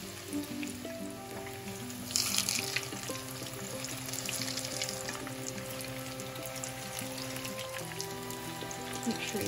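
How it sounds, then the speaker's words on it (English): Veggie balls made with flour frying in hot oil, a steady faint sizzle throughout with a brief louder crackle early on, under background music. "Make sure it all fries until it's all golden brown."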